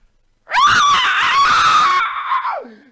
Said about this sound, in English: Hideous screams echo from the stairs as you take your steps down it.